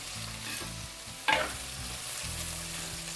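Drumstick pieces frying in a pan while making prawn theeyal, a steady low sizzle with soft stirring scrapes and one brief sharp clatter near the middle, close by with no voices.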